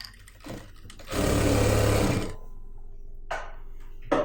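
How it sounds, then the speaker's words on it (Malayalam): A sewing machine stitching the bottom of a churidar runs in one loud, steady burst of about a second, with softer mechanical whirs and clicks before and after and no voices. "ഇനി ഈ ഒരു വീതിക്ക് നമുക്ക് താഴത്തേക്ക് ഇതുപോലെ ഒന്ന് സ്റ്റിച്ച് ചെയ്യാം."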